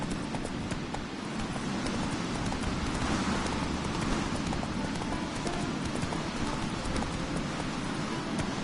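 Horse hooves gallop in The Witcher: Wild Hunt, a steady rhythmic clip-clop buried in dense rain-like noise that stays constant throughout with no clear voices.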